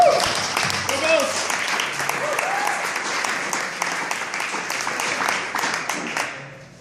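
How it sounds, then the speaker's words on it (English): An audience at a talk on how the Bills Mafia took down Bon Jovi breaks into sustained applause, many hands clapping steadily for several seconds with a cheer near the start, fading out at the end. "Let's give him a round of applause."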